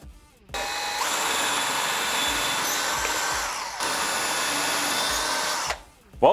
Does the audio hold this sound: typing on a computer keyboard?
no